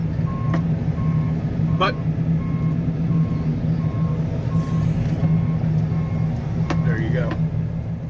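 A Kenworth truck hauling railroad ballast reverses with a steady, repeating backup beeper over a loud, continuous diesel engine rumble, with faint air brake hisses and brief speech from someone nearby.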